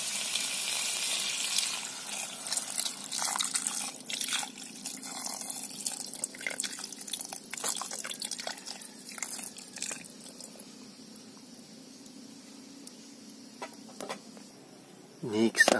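Coconut milk being poured onto fried squid in a pan for ginataang pusit, a steady close liquid pour and gentle sizzle that trails off, ending with a brief clatter.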